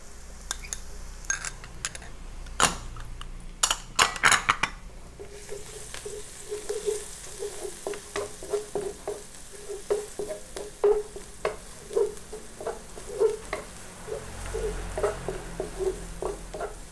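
Garlic sautés in a pan for a cream pasta soup, a soft steady sizzle broken by clattering stirring strokes early on and rhythmic scraping throughout, close and quiet, with no talking.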